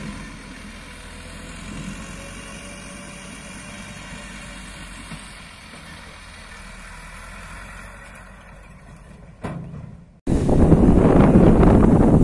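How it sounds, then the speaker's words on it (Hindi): Strong wind before a dust storm buffets the microphone in a low, steady rumble. Near the end it cuts out briefly, then returns as a loud, rough gust. "आंधी आने के चांसेस बहुत ज्यादा हैं, क्योंकि शदीद हवा चल रही है अब यहाँ से"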